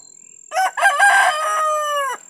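A farm rooster gives a single loud, clear crow with a rising start and a long drawn-out tail, close by and heard alone.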